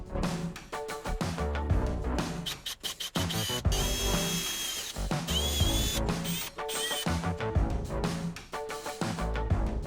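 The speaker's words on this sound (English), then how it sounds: "then we'll go ahead and drill it out to size" A power drill whirs loudly in repeated bursts, enlarging a pilot hole made with an awl to fit a 1/4 screw, its motor revving and stalling as it bites in, with short pauses between runs.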